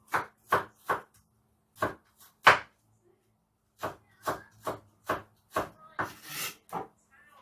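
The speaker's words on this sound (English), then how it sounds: "And then the garlic. Chop it." A knife chops garlic in crisp, distinct strokes, first a quick run of three, then scattered single chops and a steadier burst of about seven, close and clear against a quiet background.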